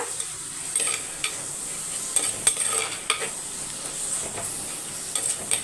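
Chopped tomatoes sautéing in a pan for a mutton thokku, a soft continuous sizzle with scattered scrapes and taps of a spoon as they are stirred, close and fairly quiet.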